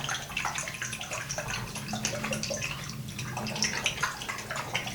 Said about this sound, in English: so washing my face, very simple process for me